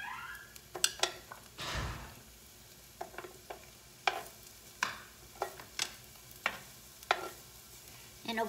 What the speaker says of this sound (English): And let me add up the onions.